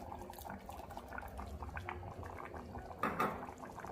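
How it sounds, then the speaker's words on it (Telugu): Tamarind juice poured into a pot of rice, toor dal and water for bisi bele bath, a soft liquid splash rising near the end over a steady bubbling, watery background. "ఇప్పుడు చింతపండు జ్యూస్ కొంచెం వేసుకుంటున్నాం."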